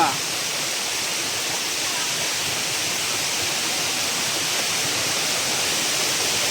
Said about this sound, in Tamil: பாருங்கள் அருவியை எவ்வளோ சூப்பராக இருக்குது பாருங்கள்